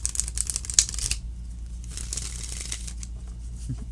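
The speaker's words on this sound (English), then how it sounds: "shuffling is just such a soothing activity to me" Tarot cards riffle and flutter in a quick shuffle up close, a burst of crisp papery snapping, then quieter soft shuffling and a few light taps.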